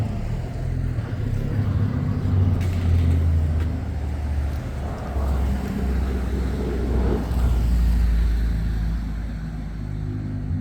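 A police car drives past on a street, its engine a steady low rumble that swells and fades, heard alone without talk.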